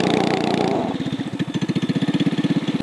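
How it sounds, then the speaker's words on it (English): A mini bike's small engine runs close by, first as a dense roar, then settling into a steady, rapid chugging putter of evenly spaced pulses. "He's awful proud of his mini bike."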